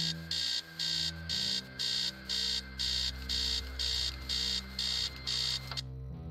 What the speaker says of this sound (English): Upstairs, the sound of an alarm clock is blaring.